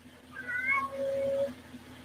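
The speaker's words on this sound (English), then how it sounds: "I agree, kitty cat." A cat meows once, a clear, drawn-out call that rises and then falls, moderately loud over a quiet background hum.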